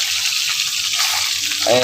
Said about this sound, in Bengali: এখানে আমি মাছ ভাজা করছি